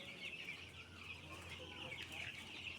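Soft, continuous clucking from a group of 15-day-old chicks, fairly faint with a steady background hum and no clear talk.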